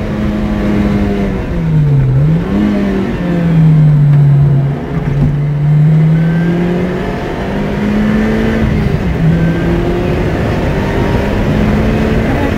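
A loud 2011 Lotus Exige sports car engine drones and revs steadily, pitch rising and dipping as the throttle changes, close and continuous throughout.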